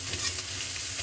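Chowmein noodles are tossed into a hot pan of fried vegetables, egg and onion, giving a continuous close sizzle with brief stirring scrapes and no talk.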